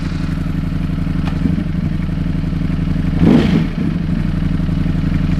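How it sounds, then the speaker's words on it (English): A 2024 Ducati Streetfighter V4 fitted with a full titanium Akrapovic exhaust runs steadily near the listener with a loud, deep, even rumble that swells briefly partway through. "I wanted to let you hear the difference between when it sounds like in neutral and what it sounds like in gear"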